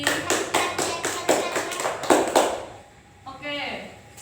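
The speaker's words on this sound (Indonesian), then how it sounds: "Yuk tepuk tangan buat Mas Sakti." A small group applauds Mas Sakti at a micro-teaching class, giving a short burst of rhythmic claps that fades after a few seconds into a quieter moment.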